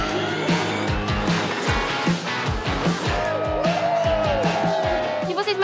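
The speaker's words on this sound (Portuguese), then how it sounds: "Principalmente quando a gente viu os carros acelerando de uma forma tão rápida." Formula E race cars accelerate past at a large public event, their loud electric whine rising and sweeping through repeated passes. Tires squeal and a dense crowd din sits underneath.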